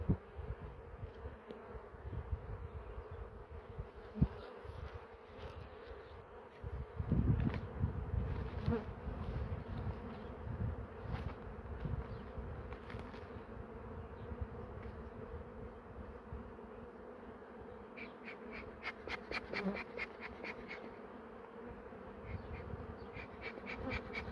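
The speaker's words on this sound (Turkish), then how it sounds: "Yavru arılar çok meraklı oluyor etrafa" Young bees buzz steadily around a hive in a dense, continuous drone, close by and unbroken, with no voices.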